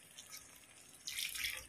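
Water poured into a pan of masala while cooking chicken parda biryani, a short splashing gush that swells suddenly after a quiet stretch and runs to the end.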